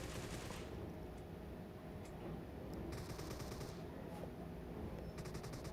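Groza rifle fire in PUBG, rapid automatic bursts of shots in a dense, continuous rattle with a few distinct breaks, heard fairly distant and muffled in the game mix.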